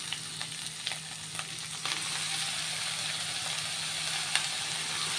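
Amaranth leaves going into a frying pan with vada and green chilli, a dense continuous sizzle with a few faint stirring clicks over it.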